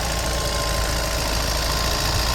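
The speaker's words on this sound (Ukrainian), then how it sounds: "Двигунчик працює просто ідеально," A 2020 MAN TGE van's two-litre diesel engine idles smoothly, a steady close rumble with an even ticking texture and no voices.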